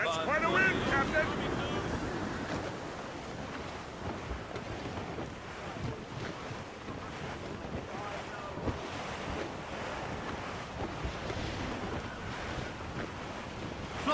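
Strong wind and crashing waves at sea aboard a sailing ship in Assassin's Creed Rogue, a loud continuous roar of gusts and surf with creaking and splashes, and crew voices faintly under it.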